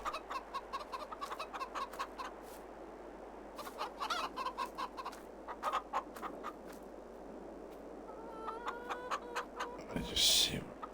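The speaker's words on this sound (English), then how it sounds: "Nice few chickens in there now." Chickens in a pen on a Farming Simulator 22 farm cluck in scattered, overlapping bursts at moderate distance, with a brief rooster-like call near the end.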